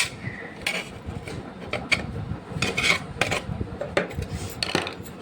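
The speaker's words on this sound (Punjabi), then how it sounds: "ਉਹਨਾਂ ਨੂੰ ਆਪਾਂ ਇਦਾਂ ਕਰਕੇ ਨਿਕਾਲ ਲਾਂਗੇ ਪੇਚਕਸ ਨਾਲ" A metal screwdriver scrapes and rattles inside a Jack sewing machine, prying out stuck needles and tailor's chalk during an oil change, with irregular clinks and rasping scrapes heard up close and moderately loud, with no voices.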